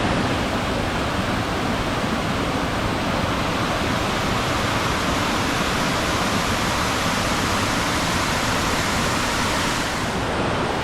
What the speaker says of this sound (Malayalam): ഇതാണ് അഞ്ചുകുഴി വെള്ളച്ചാട്ടം.